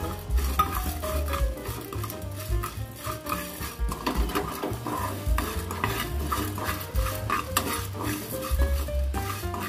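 Chana dal and urad dal frying in a pan, a busy continuous sizzle mixed with frequent metallic spoon scrapes and clinks against the pan, fairly loud and close.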